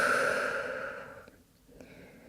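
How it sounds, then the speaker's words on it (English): Breathing in and out through the nose during a yoga flow, one long soft nasal exhale fading away, followed by quiet faint intakes, close and gentle with no talking. "Breathing in and out through the nose."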